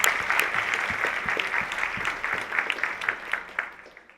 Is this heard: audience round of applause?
yes